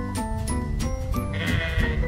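A six-year-old sheep bleats repeatedly up close, several wavering, nasal calls in quick succession with no talking over them.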